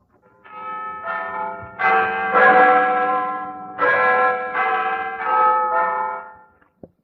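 A bell that is not a church bell strikes several rich, ringing tones in an uneven sequence, each hum lingering and overlapping the next, clear and alone.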